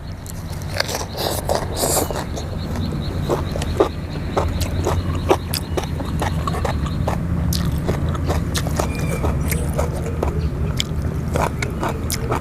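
Crunchy, close-up chewing of Thai mixed seafood som tam with enoki mushrooms, steady crisp bites and crackles running throughout, with little or no talk.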